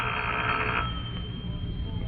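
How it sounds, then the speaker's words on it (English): A telephone bell rings in an old-time radio drama, a short ring over a muffled, band-limited background that cuts off after under a second. "when the call came through"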